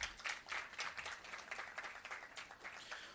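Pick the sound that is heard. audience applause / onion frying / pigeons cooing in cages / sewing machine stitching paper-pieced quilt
audience applause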